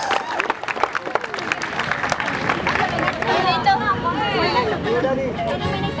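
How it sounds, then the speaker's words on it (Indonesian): Audience applause after a Nias traditional dance, the Famadogo omo, crowd clapping loudly at first and then blending into cheering voices and crowd chatter as the applause continues. "Berikan tepuk tangan, aplaus."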